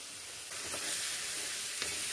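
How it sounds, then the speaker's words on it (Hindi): Grated carrots for carrot halwa fry in a pan on the stove with a continuous hissing sizzle, steady and close, and a few faint scrapes of stirring, with no voices. "अब ये हमारे देखो फ्राई हो गए हैं, बस इतने ही फ्राई करने हैं"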